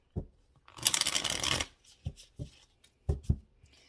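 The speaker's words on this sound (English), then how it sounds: "Give it a shuffle real quick, actually." A deck of tarot cards is riffled in one quick rushing burst, followed by a few light taps and clacks as the cards are squared up, close by.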